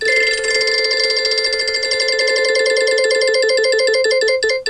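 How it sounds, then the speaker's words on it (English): A prize wheel called the wheel of stuff spins with a loud, rapid ringing chatter, a continuous bell-like clicking that slows slightly before stopping abruptly. "Are you ready to spin the wheel of stuff?"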